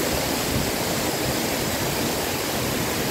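Tago Falls in Porac pours steadily, a dense, unbroken hiss of falling water that stays loud and even throughout, with no voices over it.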